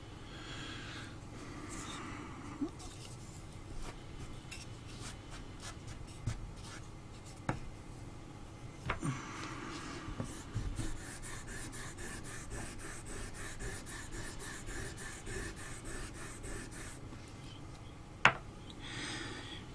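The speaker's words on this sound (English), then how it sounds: "so we'll sharpen this chisel" A blunt wood carving chisel being sharpened while carving a dragon figure, heard as steady, close rasping strokes that run continuously through the clip, with a few sharp clicks and a louder knock near the end; no one talks.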